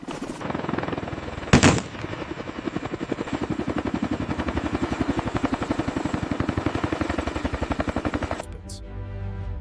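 A CH-53K King Stallion heavy-lift helicopter thumps with a loud, rapid, steady rotor beat close by, preceded by a sharp burst and ending in a sudden cut.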